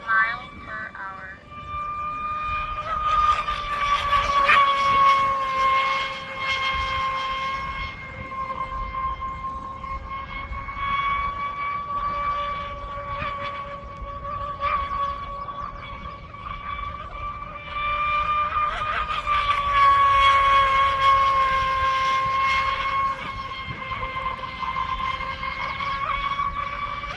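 An Oxidean Marine Dominator RC boat runs on the water, its high-pitched engine whine holding a steady tone that swells louder twice and then eases as the boat passes at a distance.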